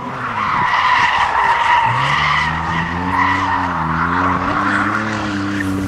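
A drifting car slides sideways on a warm-up lap at a 2008 drifting day, with loud sustained tyre screech and a revving engine whose pitch climbs and wavers, heard close and continuously.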